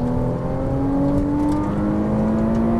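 A Ferrari 458 Italia on a race track in Las Vegas, engine droning at a steady high pitch from inside the cabin and climbing gradually through a gear, loud and continuous, with no speech.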